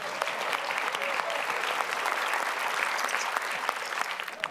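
Studio audience clapping for a contestant on an Indonesian TV variety show, a dense steady round of applause lasting throughout, loud and close with no voices over it.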